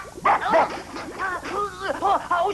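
A cartoon character's voice imitates a dog, giving a quick run of yipping barks and whimpering whines close up.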